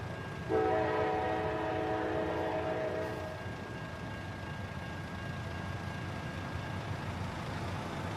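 A freight train hauling many wagons passes in American Truck Simulator, sounding one loud horn blast of a few seconds over a heavy, steady rolling rumble that keeps going after the horn stops.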